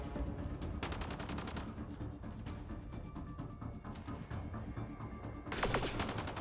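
Gunfire in the video game Mass Effect Andromeda comes as rapid bursts of shots over a dense, steady layer of combat noise, with a louder volley near the end.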